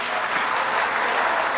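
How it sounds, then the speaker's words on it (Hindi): Dense, steady applause from the audience at a poetry gathering in Agra, a continuous wash of many hands clapping with no break. "एक मर्तबा आप सब अपने लिए तालियां बजा दें।"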